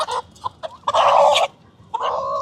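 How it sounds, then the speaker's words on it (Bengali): Chickens cluck and squawk as they are caught one by one and put inside, with short sharp calls followed by a louder, longer burst of agitated squawking close by. "এখন মুরগিগুলাকে ধরে ধরে ঢুকাইতে হবে,"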